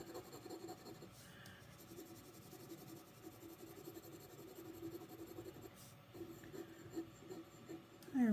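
Pelikan fountain pen nib scratching softly across smooth Tomoe River paper, a faint continuous writing rasp with small strokes, quiet and close, a brief louder bump at the end.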